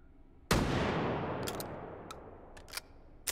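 A single sharp gunshot from an IZH gun in the VR game Hot Dogs, Horseshoes & Hand Grenades, booming with a long decaying tail, followed by a few faint metallic clicks.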